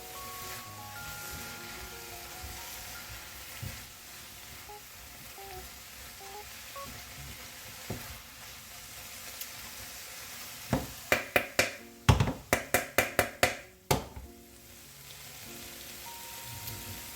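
Kimchi fried rice being stirred in hot oil in a pan gives a steady, soft sizzle throughout, with a quick run of sharp clacks near the end as the utensil strikes the pan.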